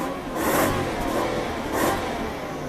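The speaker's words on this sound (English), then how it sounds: "Go on, give it some more revs." A Toyota Century engine revs up twice, swelling and easing back in two throaty surges over a steady running rumble.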